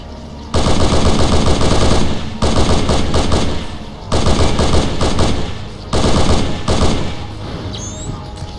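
Rapid battle rifle gunfire in the Halo SPV3 video game, four loud, close bursts of rattling shots with short gaps between them.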